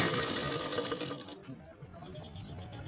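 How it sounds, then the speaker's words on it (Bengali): Sewing machine stitching the side seam of a garment, a close steady mechanical whir that stops partway through, leaving quieter room noise; no one speaks. "এরপরে আবার পুরো এই সাইডটাও আমি পুরো সেলাই করে নেব"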